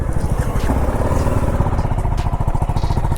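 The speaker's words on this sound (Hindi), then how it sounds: "बाइक को करते हैं एक बारी स्टार्ट, और एक बारी स्टार्ट करने के बाद आवाज़ फिर से एक बार सुना देता हूँ आपको।" A BMW G 310 RR single-cylinder motorcycle engine idles steadily after starting, a close, fast, even thumping that keeps up without a break.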